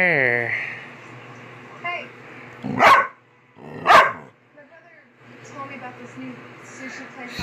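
A coonhound and Australian shepherd mix dog gives two sharp, loud barks a second apart, with a person talking before and after them.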